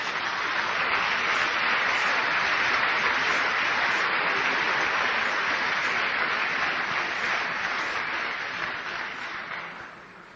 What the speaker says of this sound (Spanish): Un aplauso para Andrés Söderlund.